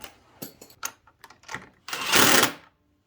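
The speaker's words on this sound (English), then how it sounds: "Put your washer and your nut. Tighten it back up." A nut and washer are tightened back onto the body of a Burromax mini bike with a hand tool: a run of quick metallic clicks and taps, ending in a short, louder ratcheting burst, close up.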